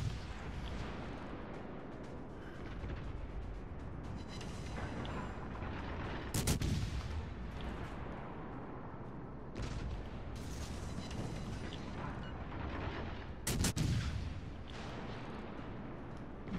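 Naval gunfire from warship guns in a video game, a continuous rumbling barrage of battle noise with two louder booming salvos standing out, no talk over it.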